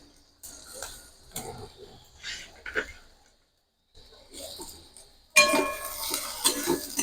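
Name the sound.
potato, onion and chilli frying and stirred in a pan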